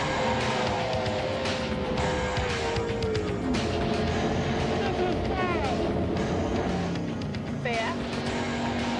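Powerboats throttle up together at a poker run start on open water, a dense, loud roar of many engines with rising and falling whines, and a voice talking over the top.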